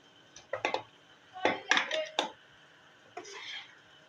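Chicken karahi being served out of the pan, with several close scraping and clinking knocks of a utensil against metal in short irregular bursts, no voices.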